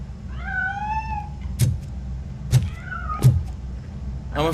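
A cat meowing in RoboCop Rogue City: several clear rising meows, close and distinct, separated by sharp clicks over a low steady background rumble.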